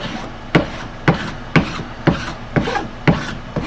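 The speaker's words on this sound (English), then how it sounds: "So I'm currently rasping this out." A hand rasp is worked over a found piece of wood being shaped into a katana handle, giving about seven rough scraping strokes at a steady half-second rhythm, close and distinct, with no voices.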